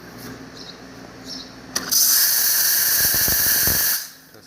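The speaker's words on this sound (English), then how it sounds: "Test the steam, nice strong steam." Steam wand of a La Marzocco Linea Mini espresso machine, freshly serviced: a loud, steady hiss bursts in and runs strong for about two seconds before cutting off, with quieter machine hum before and after.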